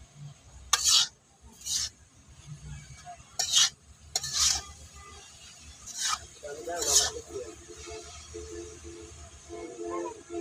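Taro (kochu) root pieces, rubbed with salt, fry gently over a low flame with a soft continuous sizzle, broken by several sharp spoon-stirring scrapes against the pan; no one speaks.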